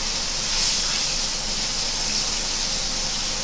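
Crappie fish frying in a pan of grease, a steady close bright hiss and sizzle of hot oil with no break.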